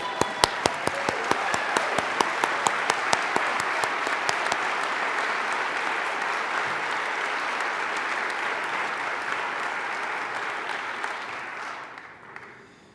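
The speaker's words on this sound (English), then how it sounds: "stand up and give yourselves a big round of applause" A standing audience gives sustained, even applause at a talk on universal love, a broad steady roar of clapping with a few sharp near claps early on, tapering off at the end.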